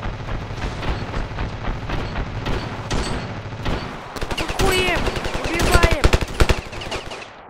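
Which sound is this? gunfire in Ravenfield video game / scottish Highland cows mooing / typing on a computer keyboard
gunfire in Ravenfield video game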